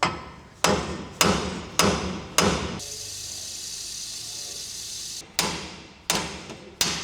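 Hammer blows on a vehicle kingpin during repair, four sharp metallic strikes in steady rhythm, then a few seconds of steady hissing noise, followed by three more loud close strikes.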